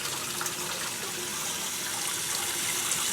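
Steady rush of tap water filling a tub while unwinterizing a camper, a continuous close hiss and splash with no talk over it.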